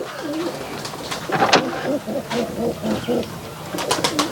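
A Giribaz pigeon of the Rajshahi tumbling breed coos close by in a series of soft, repeated throaty calls, with one brief louder flutter partway through.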